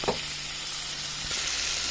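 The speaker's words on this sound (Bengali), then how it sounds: "আমরা এটাকে ভালোভাবে একটু কষিয়ে নিই।" Potatoes with spices sauté over high heat in a pan, giving a dense, even sizzle with a brief knock of a utensil at the start.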